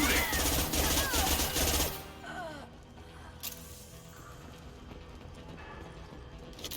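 Rapid bursts of gunfire from a sci-fi shooter video game, Mass Effect 2, clatter loudly for about two seconds, then give way to quieter combat ambience with a single sharp report.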